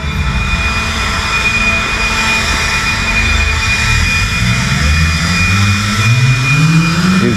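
A blower roars steadily while clearing fine polymeric sand off a newly laid brick driveway, a loud continuous rushing whine with rising engine tones near the end.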